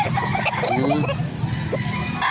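Gamecock roosters clucking and calling at a fighting-cock farm in Angeles City, several birds nearby with a drawn-out crow-like call over steady background murmur and faint voices.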